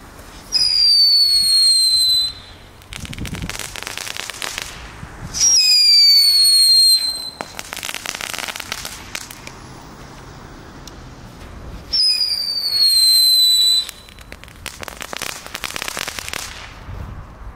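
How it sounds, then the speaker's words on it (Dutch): Loud bursts of Aldi consumer firecrackers in three clusters, each opening with shrill whistling rockets followed by rapid crackling and popping bangs, with quieter gaps between. "We hebben knallende knetter kings."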